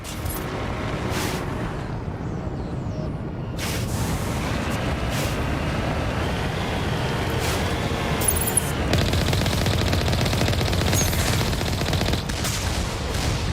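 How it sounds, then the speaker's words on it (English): Gunfire in the video game Mass Effect, sustained bursts of rapid automatic shots and booms blending into a continuous dense barrage over a rumbling background, loud throughout, without talk. "I didn't think they were shooting at me"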